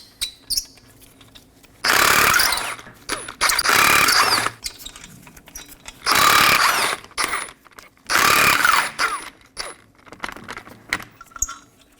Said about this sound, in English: We're going to locate 5 19mm lug nuts, holding the wheel down. Remove these as well.